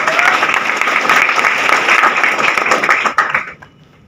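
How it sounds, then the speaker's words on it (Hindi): A seminar audience gives loud, sustained applause that holds steady for about three seconds and then trails off into a few scattered claps and quiet. "और जिन लोगों को ट्रस्ट नहीं हुआ उनके लिए एक डबल शानदार ताली होनी चाहिए"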